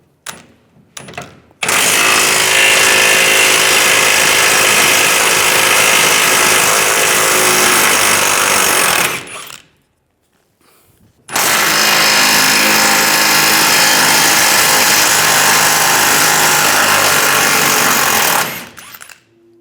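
An impact wrench fitted with a 21mm socket removes the trailer hitch bolts under the rear bumper of a 2007-2013 Chevy Silverado 1500, firing in two loud, sustained rattling bursts of about seven seconds each with a short pause between.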